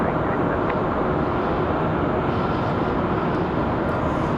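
A Spirit airliner rolls out at Raleigh-Durham International Airport, its engines a loud, constant broadband roar that holds steady throughout with no break.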